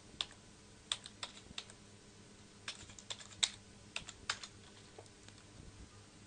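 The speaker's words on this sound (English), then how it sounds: "I'll type my password as well." Someone types a password on a computer keyboard: soft, irregular key taps, about a dozen clicks spread over several seconds, close by and quiet, with no talking.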